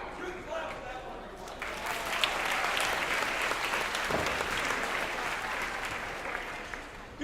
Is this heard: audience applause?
yes